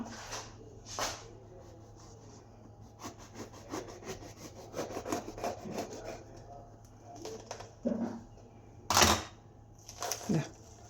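A babloose (kampili) lemon, a pink-fleshed pomelo-like citrus, is cut open with a knife, giving a run of close scraping and slicing rubs with a few sharper clicks and knocks near the end, heard alone without talk.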